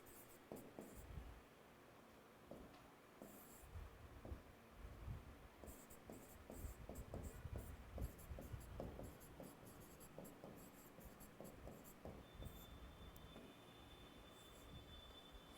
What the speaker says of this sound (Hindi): तो नीचे एक लाइन लिखते हैं यहाँ पे